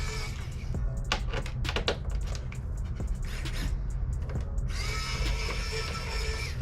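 An automatic electric screwdriver takes screws out of a PS5 Digital Edition console during a teardown. Its steady close motor whir runs throughout, with faint clicks and ticks over the top.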